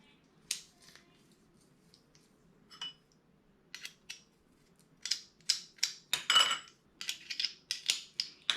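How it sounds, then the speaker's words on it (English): Garlic cloves crushed in a hand garlic press while cooking a beef and pineapple stir fry, a series of sharp metallic clicks and squeezes, sparse at first and then quicker and denser, close and fairly quiet. "3 cloves of garlic. Just press it right here."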